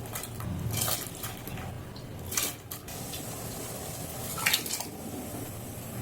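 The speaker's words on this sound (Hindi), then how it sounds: "अब इसमें ये धुली हुई सारी दाल को डाल देंगे।" Kitchen clatter of pots and utensils with watery splashing and pouring as washed lentils are added to boiling water, a couple of brief louder bursts, no talking.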